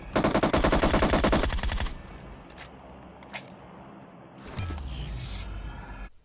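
Rapid automatic gunfire in the PUBG Mobile game, a loud sustained burst for about two seconds, then quieter scattered single shots and a renewed rumbling roar near the end.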